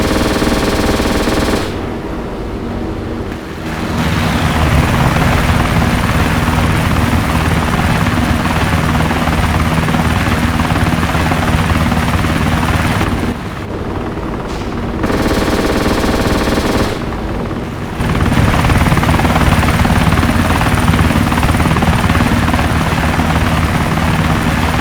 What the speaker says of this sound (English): Also a biplane.